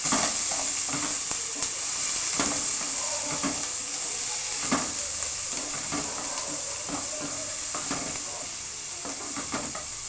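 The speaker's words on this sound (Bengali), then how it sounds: "শুকনো লঙ্কাটা একটু ভালো করে ভাজা ভাজা হওয়ার পরে পেঁয়াজ কুচিটা দেবেন।" Chopped onions and dried chilli fry together in a pan, a dense close sizzle with frequent scraping stirs, fading slightly near the end, with no talking.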